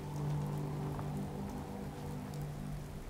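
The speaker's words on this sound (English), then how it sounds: "Just thinking how wonderful it would be to get out of this infernal rain." Rain falling in the video game Fallout 4, a soft, continuous patter and hiss of drops with a low steady hum beneath, fairly faint and unbroken.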